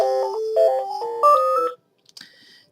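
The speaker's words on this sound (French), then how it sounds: "C'est le téléphone qui sonne," Telephone ringing, a loud electronic melodic ringtone of stepped beeping notes that plays for under two seconds, then stops abruptly, leaving faint clicks.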